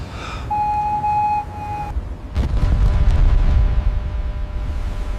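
A Yamato battleship cannon is test-fired: a whistling tone is cut off by a heavy, loud boom, and a long low rumble follows and fades slowly.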